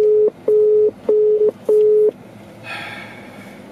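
A phone call's ringing tone sounds as four steady, evenly spaced beeps, each lasting close to half a second, followed by quiet line noise and a faint hiss.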